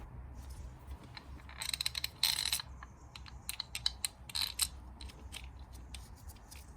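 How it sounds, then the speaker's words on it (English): A ratchet tightens the two long ignition coil screws on a Vauxhall Corsa, producing sparse, sharp clicking bursts close by against a quiet background. "You can then insert those 2 long screws by hand and use a ratchet to tighten it"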